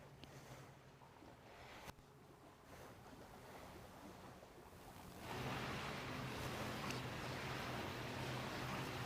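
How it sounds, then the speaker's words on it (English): Water laps and washes softly in the background at an outdoor waterside wedding ceremony, a faint steady surf-like hiss with wind that grows somewhat louder partway through, with no talk. "Hearing the water in the back."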